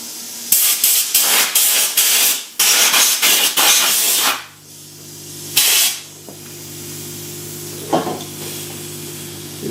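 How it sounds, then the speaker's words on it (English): An aerosol can sprays into a freezer in several loud bursts of hissing, a few longer blasts among them, while a steady low hum from the appliance continues beneath. "we're just going to spray it in there."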